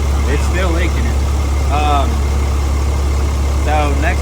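A car engine idles just after its first startup following a major engine failure and repair, a loud steady low drone throughout while people talk briefly over it.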